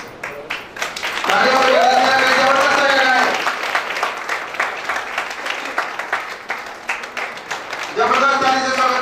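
An audience at an achievers' celebration breaks into loud applause that swells for a couple of seconds, then fades into scattered clapping as a voice speaks over the hall.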